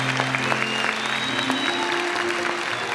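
A church congregation applauds throughout, a dense steady wash of clapping at moderate level, with a held tone and faint voices running underneath.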